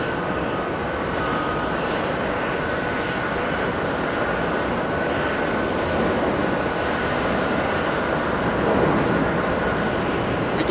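JetBlue Airbus A220 jet at JFK: an even, sustained engine roar with a faint steady whine riding on top, moderately loud and unbroken throughout.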